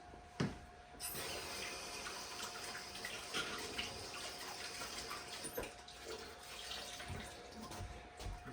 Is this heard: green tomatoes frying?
no